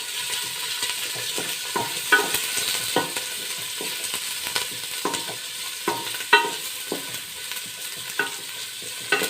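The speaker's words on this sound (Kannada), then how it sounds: "ಇವೆರಡು ಒಂದು ಹಂತಕ್ಕೆ ಸ್ವಲ್ಪ ಫ್ರೈ ಮಾಡ್ಕೊಳ್ಳೋಣ." Onions frying in a pan for Malnad-style mutton sukka, a steady close sizzle with frequent scraping stirs of a spoon against the pan, no talking.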